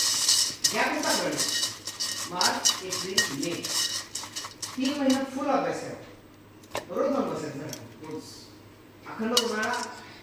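A spoon mixing bhel in a bowl, with quick clinks and scrapes against the bowl in bursts, while a person talks over much of it.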